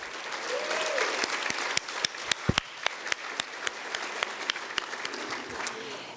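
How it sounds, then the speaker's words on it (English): Gala guests at TJC's Hall of Fame Gala applaud the honorees, a full room of clapping with several sharp individual claps punctuating a dense wash, swelling in the middle and tapering off. "Let's give another round of applause for our honorees"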